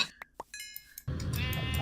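Sheep in the Minecraft video game bleat in short bursts, followed by a louder, sustained bleat with dense harmonics that carries to the end, close and clear with no talking.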